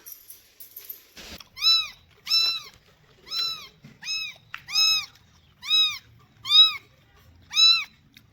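A cat meows repeatedly up close, about eight insistent cries in a fairly steady rhythm, with quiet pauses in between.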